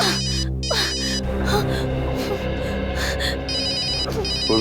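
A telephone rings in a tense scene from the Indian crime drama CID, its electronic ringtone repeating in close, steady bursts while voices talk over it.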